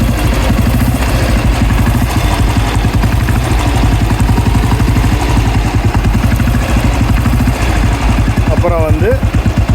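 Old Royal Enfield Bullet motorcycle running on TCI ignition idles loudly nearby with a steady, rapid thumping beat, and someone speaks briefly over it.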